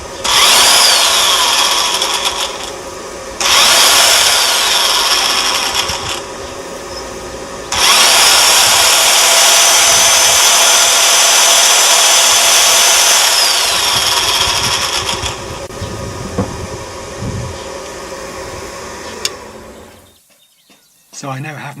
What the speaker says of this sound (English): the drill works as if it's plugged into the mains